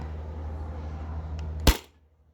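A modified Sabre 68 CO2 paintball marker fires a single sharp shot through a chronograph, a sudden loud crack against a low steady background hum that drops away to quiet afterward.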